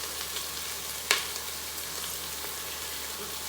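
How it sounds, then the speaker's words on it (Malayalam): Marinated chicken pieces sizzling in a pot with softened sautéed onions, a steady soft frying hiss with one brief clink near the start. "ഇനി നമുക്കിതിലേക്ക് ചിക്കൻ പീസസ് ഇട്ട് കൊടുക്കാം."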